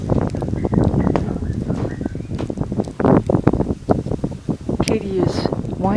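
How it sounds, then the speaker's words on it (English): Gusty winter-storm wind buffets the microphone outdoors at an apartment complex, rumbling under a person's ongoing speech, with faint bird calls and icy conditions around. "Okay, wind blowing."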